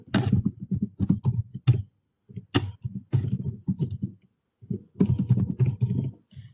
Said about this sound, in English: I'll type my keywords here.